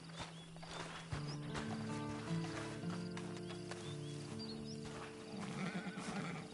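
Horse whinnies and neighs in Red Dead Redemption 2 Online, a loud drawn-out call with harmonic tones over steady game ambience and faint hoof clops, repeating through the stretch.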